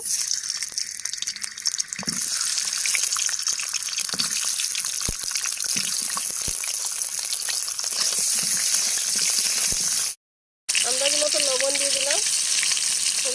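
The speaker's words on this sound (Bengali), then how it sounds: "আলুগুলো ভেজে নেব" Potatoes frying in a hot pan, a loud, dense, continuous sizzle and crackle with occasional stirring clicks, a short silent break, then the sizzle resumes with a faint tonal hum over it.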